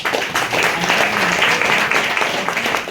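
An audience at a Hindi-language program bursts into dense, sustained applause honoring a teacher, steady clapping filling the whole stretch at close range with no pause.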